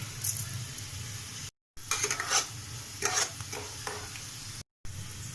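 Onions frying with sugar over a medium flame, a low continuous sizzle broken by bursts of stirring and scraping in the pan, close and fairly quiet, with two brief dropouts of total silence.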